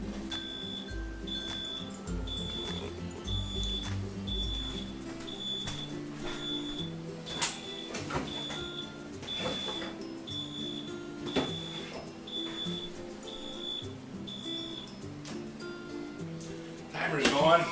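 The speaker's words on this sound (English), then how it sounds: "Timer's going." A kitchen timer beeps in an even, repeating pattern while a lemon cake bakes in the oven. Talk and kitchen clatter carry on over the beeps.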